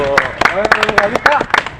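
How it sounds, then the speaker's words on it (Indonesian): A group claps together during an outdoor scout training exercise, a burst of sharp, fairly loud hand claps in an uneven rhythm lasting nearly two seconds, with voices mixed in. "Tepuk tangan dulu"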